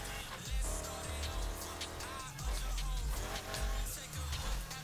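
Race car engine revving and accelerating in the street racing game Need For Speed Heat, repeated surges of engine roar with gear shifts and faint tire noise, steady and fairly close.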